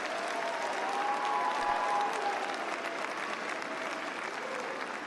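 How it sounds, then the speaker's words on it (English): Sustained applause from a large crowd at a spring commencement ceremony, steady and full throughout, clapping filling the room without any speech. "give a round of applause for your friends and relatives"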